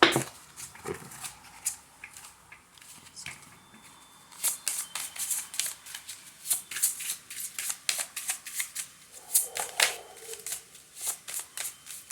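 Tarot cards shuffled and laid out on a table during a reading, with soft papery riffles, slaps and brushing taps coming in close irregular bursts, no talk.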